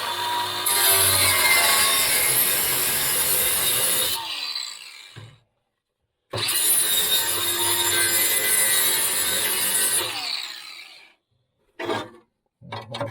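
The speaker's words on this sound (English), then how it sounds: "I'm just going to cut it most of the way through and then bang it out of the way." A saw grinds steadily through a metal bulkhead on a Scorpion Bullwhip boat in two long passes, loud and close, with a pause between and a few short scrapes at the end.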